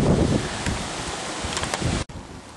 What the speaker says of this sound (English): it's getting rather wet and windy